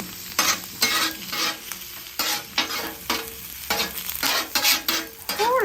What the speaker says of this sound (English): I'm going to start my rosemary right inside that butter.